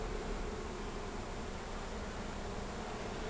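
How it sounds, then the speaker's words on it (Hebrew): A large swarm of bees being removed from inside a wall next to an air conditioner in Beersheba gives a dense, steady buzzing drone, close and unbroken throughout. "עכשיו רואים את כמות הדבורים הגדולה"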